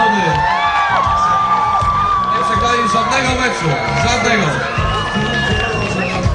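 A crowd cheers, whoops and shouts for an unbeaten football team at a town celebration in Brzesko, a loud, dense roar with shrill children's shouts on top, while someone speaks over it.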